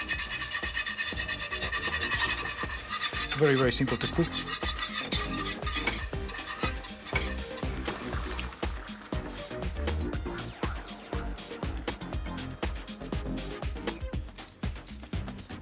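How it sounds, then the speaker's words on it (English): Continuous scraping and rubbing of a whisk stirring polenta into boiling water in a pot, with a busy rhythmic rasp throughout and a brief spoken remark. "So just whisk polenta while water is boiling."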